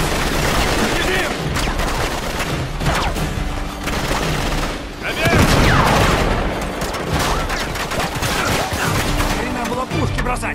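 Rapid bursts of gunfire crackle and boom in a chaotic, continuous barrage in the video game Uncharted 3: Drake's Deception, with a heavier blast midway, loud and dense.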